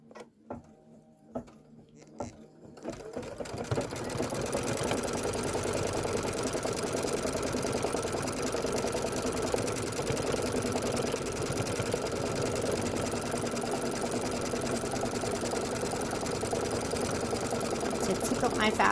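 A sewing machine stitches quilt sashing for a Kimberbell Main Street Celebration quilt, starting after a few clicks and then running in a steady, close, rapid whir for about fifteen seconds, with a voice speaking briefly early on.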